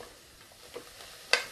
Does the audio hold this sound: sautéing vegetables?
yes